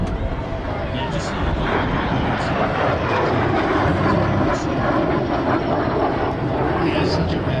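A Lockheed T-33 jet trainer flies over an airshow at MCAS Miramar, its engine making a continuous broad roar that holds steady throughout with no break.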